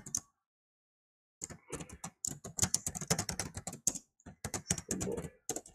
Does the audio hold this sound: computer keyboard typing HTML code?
yes